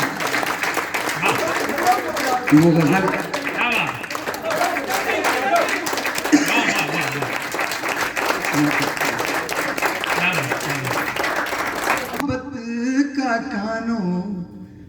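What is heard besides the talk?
audience applause at a poetry recital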